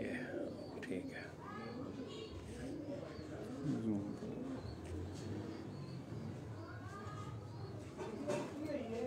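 Pigeons, including a Teddy breed bird, cooing faintly on a rooftop loft amid people chatting nearby, the soft low coos mixed under ongoing talk.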